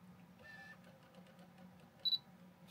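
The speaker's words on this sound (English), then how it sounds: "The motor is really quite quiet, all things considered." A Canon EF 50mm lens autofocus motor whirs very quietly, a faint low buzz followed by a brief pair of sharp high clicks near the end, otherwise near silence.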